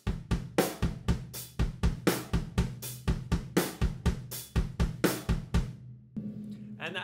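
Drum kit groove played in a triplet feel, with the kick drum landing on the second and third note of each triplet over steady, sharp hits; a rapid, even pattern of close strokes runs for about six seconds before a voice briefly speaks.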